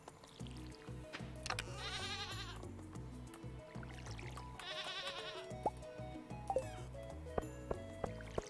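Goats bleating on a farm in the video game Stardew Valley, two clear wavering bleats separated by a pause, set against soft game music with a low repeating tone and a few light drip-like plinks.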